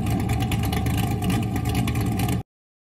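A C5 Corvette with an aftermarket cam rumbles at a loud, deep, close idle with a lumpy, choppy pulse, running for a little over two seconds before cutting off abruptly.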